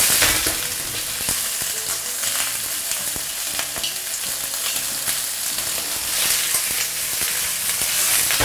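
Pork bones browning with ginger slices and scallion segments in a little oil in a wok over low heat give a steady, close sizzle, with occasional clatter as the pieces are shaken and flipped.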